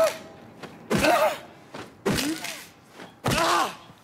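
Heavy melee blows strike corpses in Silent Hill 2 Remake, three loud thudding impacts spaced about a second apart, each with a groaning, fleshy resonance and a short tail.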